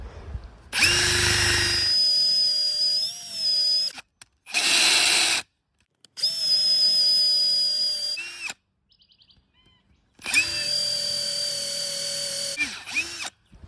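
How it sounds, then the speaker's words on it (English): A power drill whines in several bursts, each few seconds long, with pauses of silence between them, its motor pitch wavering as it bites into a tough old dead wooden stump. "I don't think the drill's going to cut it"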